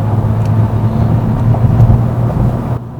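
Steady low engine drone of a Kia K5 1.6 T-GDI revving under load in comfort mode, loud and continuous, dropping off abruptly at the end.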